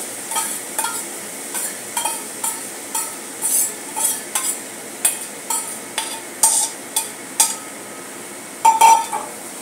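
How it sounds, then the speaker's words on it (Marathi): Dried javala shrimp being stirred into onions in a pan, with a repeated rhythmic scraping and clinking of a spoon against metal over a low sizzle, close and fairly loud, no talking. "आता आपण हा जवळा याच्यामध्ये घालून घेऊया कांद्यामध्ये।"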